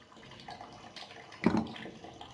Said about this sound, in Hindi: इसमें देख सकते हैं काफ़ी फ्लो के साथ पानी आ रहा है।